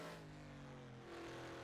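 A Nissan GT-R GT1 race car engine in the racing game rFactor 2 at the Portugal GP holds a steady, droning mid-pitched tone that shifts slightly in pitch, heard briefly at low level without talk.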